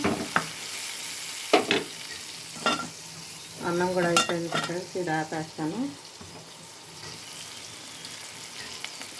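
Beans and spices fry in a pan, a steady hiss running under scraping stirs and a woman's speech throughout.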